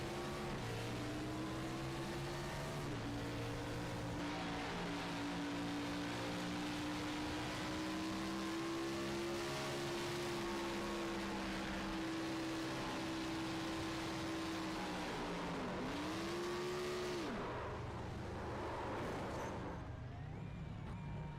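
Onboard race car engine during a restart at Bristol in a racing video game, a loud sustained drone with gradually shifting pitch, a sharp dip and recovery while lifting off the throttle, and no talk.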